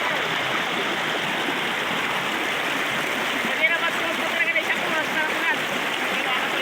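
A strong creek current rushes steadily through the whole stretch, a dense broadband wash of flowing water with a few brief splashy accents near the middle.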